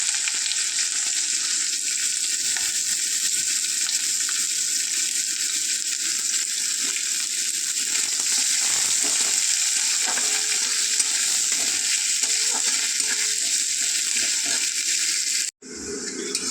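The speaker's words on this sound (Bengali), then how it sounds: "এরপর আমি পেঁয়াজ কুচিটা দিয়ে দেবো।" Continuous loud sizzling of chopped onion frying in hot oil with bay leaf and whole spices, steady and crackling throughout, with a brief break near the end before it resumes.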